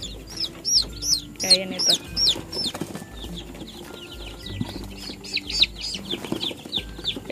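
Newly hatched chicks peep shrilly and repeatedly inside a cardboard box, a busy close chorus of high chirps, with someone talking briefly over them.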